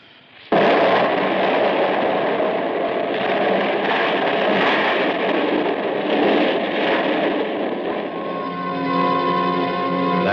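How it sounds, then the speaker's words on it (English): A loud dynamite blast in a radio drama erupts abruptly and roars on as a sustained, dense rumble, then gives way to a ringing, tonal hum in the final seconds. "That explosion had ripped Tony's spaceship open"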